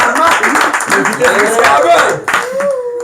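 Audience clapping at a one-year wedding anniversary celebration for a married couple in Bounia, steady close applause mixed with voices talking over it.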